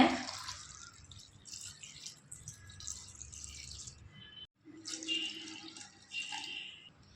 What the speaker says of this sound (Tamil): இப்போது நல்லா த காய் முங்குற அளவுக்கு தண்ணி சேர்த்துக்கோங்க